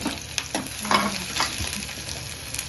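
Onions frying in hot oil for a tamarind-leaf and tripe curry, giving a steady crackling sizzle with small stirring scrapes and bursts, close and fairly quiet, with no talk.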